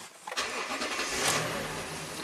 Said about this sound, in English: if we start the car up right now